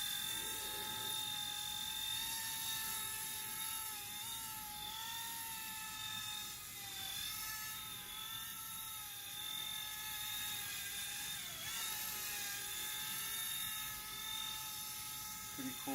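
Vevor gyro-stabilized RC helicopter in flight gives a steady high-pitched electric motor whine and rotor buzz, holding level with slight pitch wobbles throughout.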